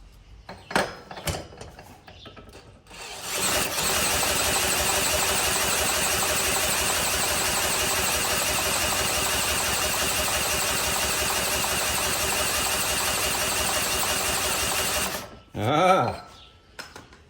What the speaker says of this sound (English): I need to crank it over some more